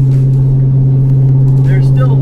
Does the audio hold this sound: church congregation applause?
no